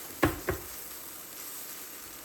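A spoon scrapes twice through doubanjiang and soya mince frying with garlic and ginger in a pan. Two short, close strokes come in quick succession over a faint, steady sizzle.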